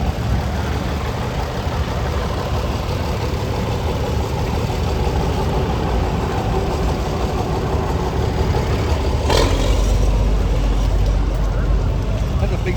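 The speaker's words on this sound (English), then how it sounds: "That's a big diesel too." A big diesel tractor engine idles at an antique machinery parade, giving a loud, steady low rumble with constant noise that continues without a break through the whole stretch.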